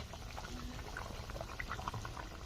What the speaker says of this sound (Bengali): ভালো করে জাল করে ঝোলটা ফুটিয়ে নেব। ঝোলটা ফুটে গেছে